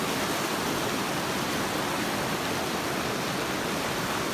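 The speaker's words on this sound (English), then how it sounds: "Pretty swift water." Steady rushing water fills the whole clip, a constant broadband roar of a swift mountain stream flowing nearby.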